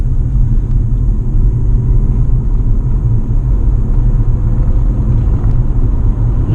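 From inside a plug-in hybrid car under full kick-down acceleration on electric power alone, with no combustion engine running, a steady loud rumble of road and drivetrain noise continues without breaks.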